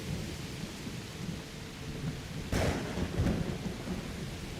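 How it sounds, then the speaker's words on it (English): Steady rain hisses throughout with a low rumble of thunder underneath, and a louder crack of thunder rolls in partway through. "here comes the rain, finally"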